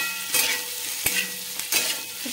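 Paneer with chili powder and turmeric sizzles hard in a hot pan over a high flame while a spatula stirs it, adding a few sharp scrapes and knocks over the constant frying hiss, close and without speech.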